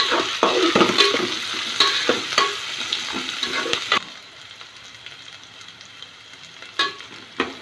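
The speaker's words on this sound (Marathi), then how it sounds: "याच्यामध्ये ते कॉन आणि गाजर घालूया म्हणजे ते कांद शिजेल चांगलं ते पण चांगलं परतून घेऊया" Onion, curry leaves, chili, corn and carrot sizzle and are stirred in a pan for bread upma, with steady frying hiss and repeated scraping stir strokes that soften to a quieter simmer partway through.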